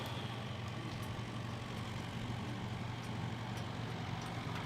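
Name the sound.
Harley motorcycle engine running rough after 12 years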